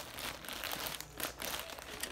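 Plastic bags crinkling as they are handled among craft supplies, a soft continuous rustle at close range, faint and steady.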